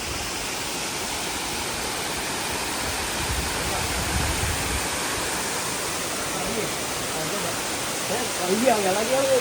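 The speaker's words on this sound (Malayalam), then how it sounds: "വെള്ളച്ചാട്ടം ഉണ്ട്" Steady broadband rush of a forest waterfall fills the whole stretch, loud and continuous, with faint voices surfacing near the end.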